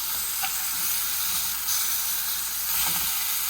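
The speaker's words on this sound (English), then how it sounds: "So I'm going to let them fry for about 1 more minute" Food sears in a hot pan with a steady, close sizzle and faint crackling pops throughout, no voices.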